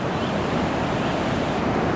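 Ocean waves roll and crash steadily on the rocky Oregon coast, a continuous loud surf roar with wind buffeting the microphone and no voices.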